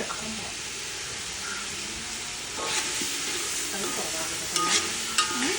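Meat curry for homemade biryani frying in hot ghee while being stirred, with a constant loud sizzle and hiss broken by scraping stirring strokes and a few faint voices in the background.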